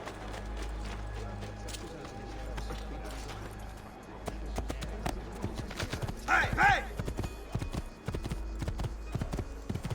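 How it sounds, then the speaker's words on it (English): Hooves clip-clop rapidly as a horse gallops in the video game Assassin's Creed II, with a brief neigh partway through and someone talking over the rhythmic pounding. "We have to get a horse immediately"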